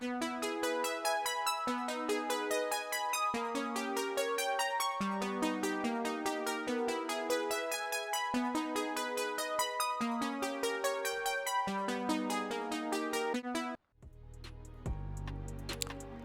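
A dry harp sample plays a repeating chord progression with plucked, ringing notes and no added effects, steady and close for about fourteen seconds before a brief deep synth tone cuts in at the end.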